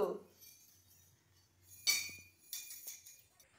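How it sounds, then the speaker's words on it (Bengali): A small child playing at cooking clinks a metal spatula against kitchenware in a home, giving a few scattered bright metallic clinks, close and soft, between long quiet gaps. "ছেলে আমার বলছে রান্না করছে, খুন্তি নিয়ে খেলা করছে"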